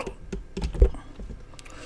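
Keys tapped on a computer keyboard while entering text in a thumbnail design program, a quick irregular run of light clicks close by with one louder press in the middle, no talking.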